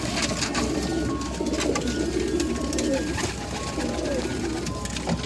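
White pigeons cooing in a loft, a steady overlapping murmur of soft throaty coos from several birds close by, with faint rustling and no talk.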